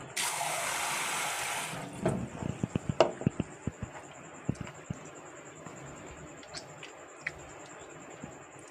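Water is poured over a vegetarian chicken lollipop mixture made without onion or garlic to rinse it, a two-second rushing splash followed by scattered soft drips and light clicks in a quiet kitchen.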